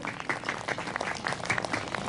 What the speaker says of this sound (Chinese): 给他掌声鼓励一下。